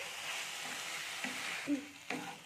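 Flour dough snack frying under a cover in a pan, a soft steady sizzle close by with a couple of brief clinks and scrapes, no talk.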